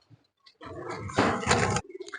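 Hobby-kept pigeons give a short, close burst of throaty cooing lasting about a second, followed by a few soft scattered noises.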